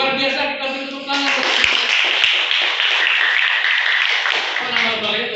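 An Indonesian classroom breaks into a dense burst of applause from many hands that lasts several seconds, with voices heard just before and as it fades.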